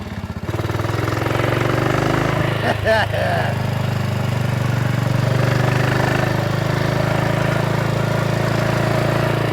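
A BSA 441 Victor motorcycle engine runs steadily and close for the whole stretch, with a torquey single-cylinder thump and a brief dip near the three-second mark, and a voice partly masked underneath.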